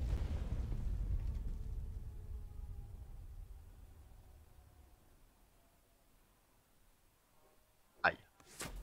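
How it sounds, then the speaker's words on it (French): Bomb explosions in the WWII card game Kards, a deep rumbling blast that slowly fades over several seconds, followed by a sharper crack near the end. "Alors, on va faire un tapis de bombe"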